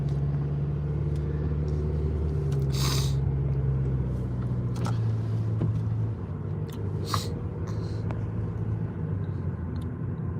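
Steady low road rumble from inside a moving car at night, a continuous drone with a couple of brief hissing swells, constant and fairly loud with no talking.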